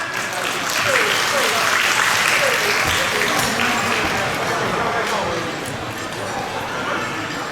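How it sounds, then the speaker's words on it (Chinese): A crowd at a church anniversary thanksgiving dinner gives sustained, loud applause for a choir stepping onstage, with cheering voices mixed into the steady clapping throughout. "再次热烈给他们掌声"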